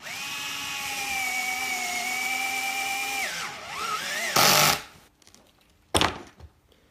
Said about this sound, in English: Just making sure all the screws are tight